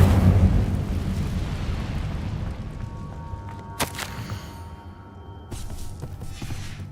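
Spell-casting effects from the Hogwarts Legacy video game as the Incendio fire spell goes off: a low rumbling burst at the start fading into a hiss, with a sharp crackle near the middle and another flare toward the end.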